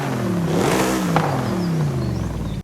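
A car with an upgraded intake revs in Forza Horizon 5, its engine note climbing and then falling back in a single loud, rising-and-dropping rev burst that cuts off abruptly.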